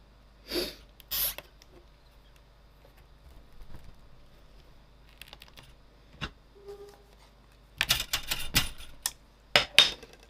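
A rubber stamp is pressed onto a card during card-making, producing a few sharp, close taps and knocks on the tabletop, separated by quiet pauses and followed by a final cluster of quick impacts.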